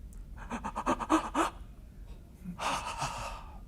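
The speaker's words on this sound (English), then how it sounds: "you end up taking some deep breaths, and this is the way your breaths sound" Slow, deep breaths, a long rasping inhale followed after a pause by a heavy exhale, close and clear with no talking.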